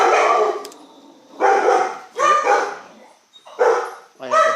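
A big dog barks repeatedly indoors, five loud close barks in an uneven rhythm separated by short pauses, with some whining tones between.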